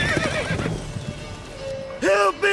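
Roach the horse in The Witcher 3 video game, a loud close whinny toward the end, preceded by hoof and harness movement under game sounds.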